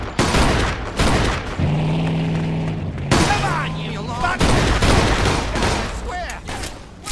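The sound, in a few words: gunfire in a shootout, from the video game Mafia II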